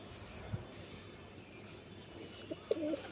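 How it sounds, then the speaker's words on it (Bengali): A light-eyed jochcha pigeon gives a brief, soft coo near the end, faint against a quiet, hushed background. "খুবই লাইট চোখের হেভি সুন্দর জচ্চা পায়রা।"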